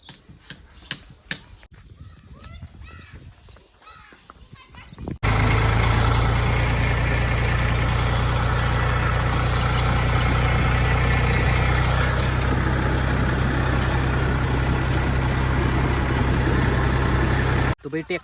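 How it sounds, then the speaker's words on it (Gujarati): A tractor engine starts up and idles loudly and close by, a steady low diesel rumble that runs unbroken for about thirteen seconds after some softer clatter and movement at the start. "તો ભાઈ ટ્રેક્ટર આવી ગયું અને ચાલુ થઈ ગયું"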